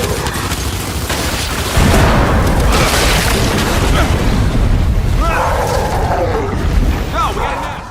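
Gunfire and explosions from a PC shooting video game rumble continuously, loud dense booms and bursts layered with clattering shots throughout.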